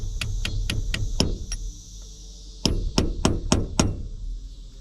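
A metal key being drifted gently into a shaft slot beside a start clutch: two runs of about six sharp, evenly spaced hammer taps, close and clear, separated by a short pause.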